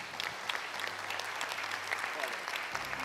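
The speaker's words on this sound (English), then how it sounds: "everyone to give a round of applause to the panelists" An audience applauds panelists at a conference plenary session, with steady, dense clapping from a large crowd in a hall, sustained and fairly distant throughout.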